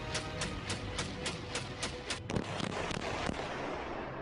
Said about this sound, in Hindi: इस वीडियो में आप देख सकते हैं कि निज्जर किस तरह यहाँ राइफल से फायरिंग कर रहा है।